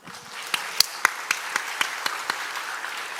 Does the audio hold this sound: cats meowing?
no